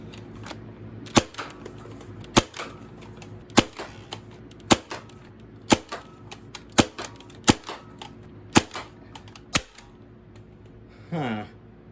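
A Buzzbee Twist Fury toy blaster dry fired again and again, each shot a sharp, close plastic snap at uneven gaps, about eleven in all, with a short mechanical whirr at the end.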